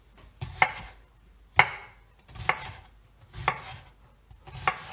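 A knife chops an onion on a cutting board in five crisp, evenly spaced strokes, close and clear with no talking.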